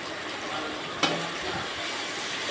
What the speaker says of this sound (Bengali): এখন আলুগুলো একটু লাল লাল করে ভেজে নিতে হবে।